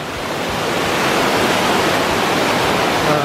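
Jones Run Falls in Shenandoah National Park roars as a loud, steady wash of falling water, a broad continuous rush close by with no voices.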